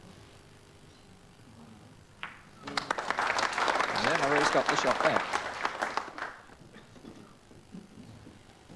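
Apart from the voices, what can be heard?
crowd applauding at indoor bowls match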